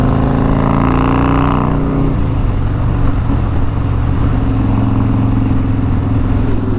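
A Harley-Davidson Fat Boy with a 140ci motor cruises on a highway, its engine a steady, loud low drone that eases off slightly after the first couple of seconds, mixed with wind rush and no speech.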